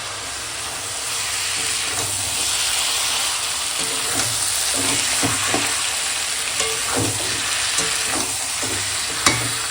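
Goat meat sizzles steadily in a hot pan as it is sautéed dry with chili powder, green chilies and salt, a continuous frying hiss broken by scraping stirs and occasional spatula clinks, with no talk.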